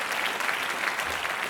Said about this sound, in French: Je vous demande d'applaudir très fort celui qui vient du Pays Basque